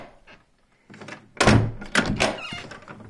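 A door on a Texecom Premier Elite access-control alarm system opening after a code unlocks it: a few quiet clicks, then louder thunks and rattling handling sounds in close, brief bursts.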